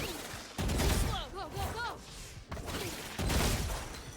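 Bursts of gunfire in the Valorant video game while the player's character slides, rapid shots and impacts fired in two main stretches, with a person talking over the game sounds.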